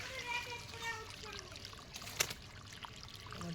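A water pump motor releases water that trickles and splashes softly, a faint steady stream under nearby talking.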